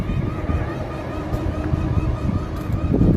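Loud, steady mechanical roar of a pressurization blower running nearby in a building, a broad rushing drone with slight fluctuations and no voices.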